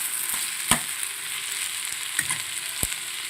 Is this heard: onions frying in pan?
yes